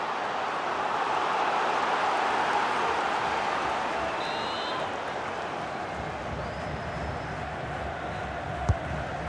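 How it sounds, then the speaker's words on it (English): Stadium crowd in the FIFA 23 football game: a continuous broad roar of a large crowd that swells slightly and then holds steady. A faint thud comes near the end. "The crowd are certainly playing their part"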